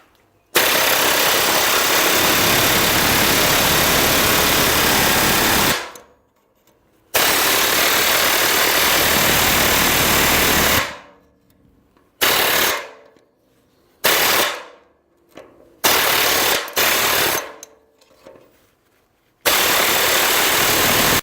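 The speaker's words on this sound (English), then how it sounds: "I'm going to try to take an air chisel and pop them out now." An air chisel hammers against old rivets on a Ford F250 truck frame during cross-member removal, rattling loud in long continuous bursts broken by short pauses, with the rapid pneumatic chatter dominating and no voices.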